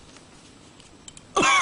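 A single short, harsh cough bursts out near the end after a stretch of quiet room noise with faint indistinct sounds.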